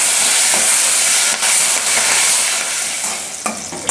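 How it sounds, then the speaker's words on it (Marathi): Green chillies roast in hot oil in a pan, giving a loud, steady sizzle with faint stirring clatters near the end. "आता तेल टाकून परत भाजून घेणार आहे मिरच्या।"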